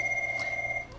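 A telephone rings in the Michael Scott Paper Company office on The Office, a steady electronic ring tone that holds for about a second at clear, close volume before cutting off.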